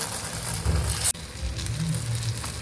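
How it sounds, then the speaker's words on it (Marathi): Stuffed green chillies shallow-fry in a pan with a steady, close sizzle. A sharp click sounds near the middle, then the crackle carries on. "दोन्ही साईड छान अशी खमंग अशी फ्राय करून घ्यायची आहे"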